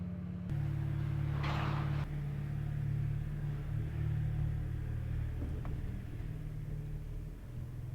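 A BMW 335xi that sat unused for a while idles with a low, steady rumble, with a brief sharper burst near the start and little variation afterward.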